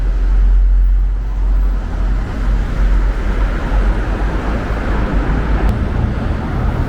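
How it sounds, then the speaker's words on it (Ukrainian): Busy road traffic crossing the Degtyarivsky overpass in Kyiv, a dense continuous rumble of passing vehicles with deep low-end drone, steady and loud throughout with no speech. "Ми бачимо, що рух тут доволі жвавий, незважаючи на війну, незважаючи на топливну кризу."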